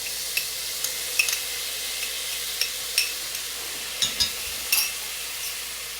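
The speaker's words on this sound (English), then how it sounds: "because my onions are getting a little opaque and translucent, I'm going to add in some minced garlic." Minced garlic sizzles with translucent onions in oil and butter for steak and potato soup, a steady soft hiss punctuated by a series of small sharp pops and light taps, no voices.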